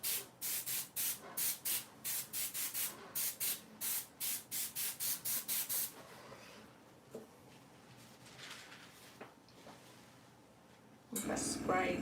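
Alcohol ink sprayed from a spray bottle: a rapid run of about fifteen short, sharp hissing bursts in a regular rhythm, then quieter rustling and a brief louder noise at the end.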